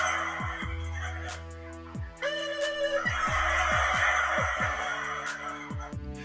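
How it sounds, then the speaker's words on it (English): A large flock of turkeys gobbles in repeated bursts, one call triggering a chorus of overlapping gobbles from the rest, loud and close with brief pauses between waves. "every time he'd gobble, the rest of them would gobble right along with him"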